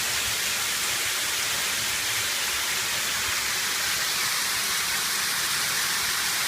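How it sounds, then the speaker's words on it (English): Water pouring from a shower head turned up to full flow, a dense steady hiss like heavy rain that holds constant and loud throughout, with no voices. "That's a lot of water coming out of that shower head."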